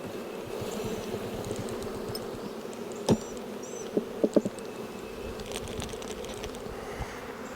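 Honeybees hum in a dense, steady buzz around the hive, with a few close wingbeats passing by and occasional light clicks.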